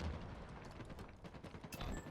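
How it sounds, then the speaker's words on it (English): Distant gunfire echoing across the map in a Halo Infinite ranked match, faint rapid bursts of shots blending with muffled booms and in-game mechanical noise. "you can hear the gunfire from long haul"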